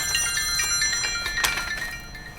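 A phone rings indoors during a diamond painting session with a multi-placer tool, a steady high-pitched ringtone with several sustained tones over the whole stretch, fairly close and loud, with no one talking.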